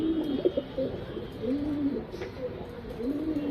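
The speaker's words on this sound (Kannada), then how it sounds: "ಇದು ಬಂದ್ಬಿಟ್ಟು ಪಿಲಂಕಾ ಗಂಡು, ಹೆವಿ ಟೆಂಪರ್ ಫ್ರೆಂಡ್ಸ್" A Pilanka breed male pigeon coos nearby in repeated low rolling phrases, close and clear against faint background noise.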